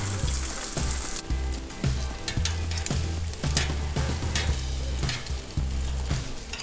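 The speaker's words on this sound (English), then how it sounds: "I love cooking the bacon on the Blackstone" Bacon sizzles and crackles loudly on a Blackstone outdoor griddle, a constant dense fry broken by repeated scraping strokes of a spatula against the flat metal surface.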